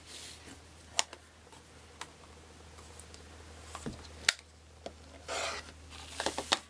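Quilt fabric pieces are cut on the diagonal with sharp, scattered clicks and brief slicing swishes, close and quiet, in irregular bursts with pauses and no talking.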